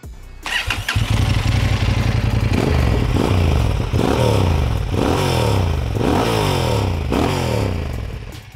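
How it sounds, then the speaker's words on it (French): A Honda Transalp 750 motorcycle starts up close by, then revs hard in several rising and falling bursts. The loud engine and exhaust note carries on for the whole stretch, with no talking. "la sonorité du moteur qui est juste géniale"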